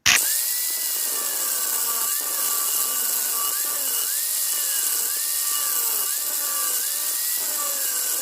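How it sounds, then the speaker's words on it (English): A small grinder works the shoulders of a Japanese bunka knife, giving a loud steady high whine with a rising and falling pitch as the wheel bites the steel again and again, with no talk over it. "I'm going to be grinding the shoulders in. I'm going to use a small grinder for this"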